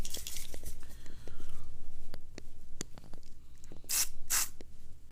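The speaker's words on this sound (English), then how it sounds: "WD-40 inside this relay." Short bursts of WD-40 spray hiss into an electrical relay from a car's electric window switch, two close hissing sprays near the end after soft clicks and handling noises.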